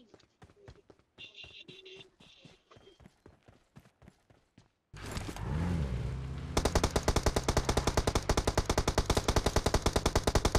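Gunfire in the mobile battle-royale game PUBG Mobile: a steady run of sharp single shots, then a loud whoosh and a dense, rapid automatic burst that continues to the end, close and loud.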